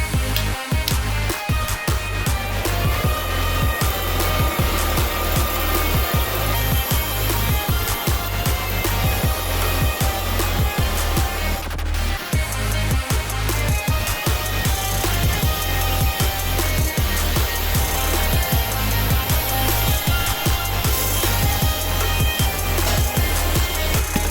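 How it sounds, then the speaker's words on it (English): A loud, steady motor whine with a brushing, rattling texture runs throughout, a MOOSOO cordless stick vacuum cleaner working continuously up close. "Let's go watch me vacuum some things."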